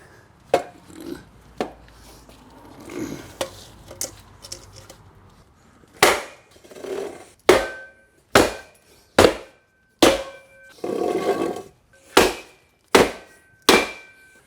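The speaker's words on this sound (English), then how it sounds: "I thought we were going to tamp the limestone instead of tamping the grate" A drainage grate is tamped into place with sharp, evenly spaced impacts, about a dozen close knocks, scattered at first and then settling into a steady rhythm, with no talking.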